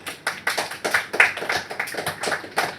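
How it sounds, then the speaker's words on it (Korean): Sharp, fairly close hand claps from a small group in a middle school math lesson, about a dozen distinct rhythmic claps in quick succession with no talking over them. "박수!"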